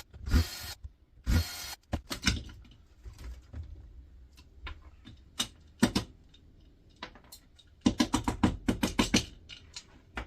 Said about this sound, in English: So let's get the screws out, let's try and take this apart.